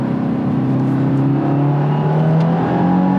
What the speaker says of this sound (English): So I'm gonna try a couple hard shifts here and see how it feels.